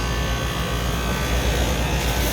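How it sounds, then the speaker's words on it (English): The compressor of a 4-ton single-phase Daikin package unit with airflow problems runs with a steady, dense, buzzing hum, close and continuous, with no talking. "Never imagined this compressor was going to start."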